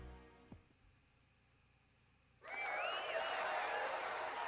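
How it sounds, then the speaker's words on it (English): A crowd bursts into loud, sustained cheering and applause in the fighting game Persona 4 Arena, starting abruptly after a quiet stretch with a faint knock and holding steady to the end. "When I do, the bustle of voices reaches my ears."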